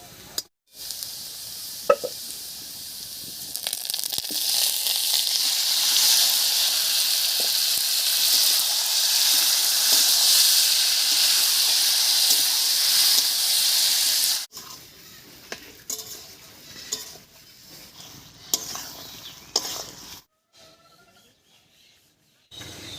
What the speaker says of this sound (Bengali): পেঁয়াজটা বেশ লাল লাল হয়ে গেছে এবারে মাংসটা দেবো